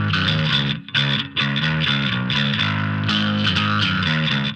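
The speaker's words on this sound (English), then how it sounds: "Distortion. They often have a little overdrive circuit." A bass played through a small bass amplifier's built-in overdrive circuit gives a gritty, distorted tone, loud and sustained, with a few brief gaps between notes.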